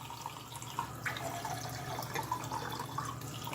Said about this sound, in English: I'm going to turn on one of the taps